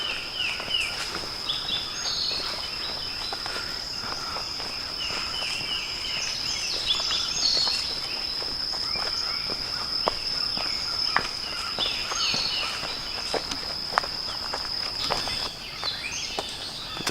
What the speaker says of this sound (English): Birds are singing beautifully this morning all around us.